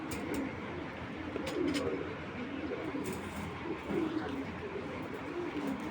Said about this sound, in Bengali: এই কবুতরগুলো হলো ড্যামরার কবুতর